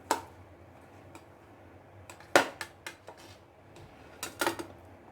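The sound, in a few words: cutting boiled eggs into pieces with a knife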